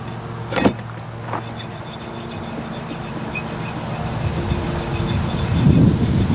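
A small hand file rasps against a snug-fitting mower part to add clearance, a steady close scraping that runs the whole stretch with a few sharper strokes early on and a louder burst near the end.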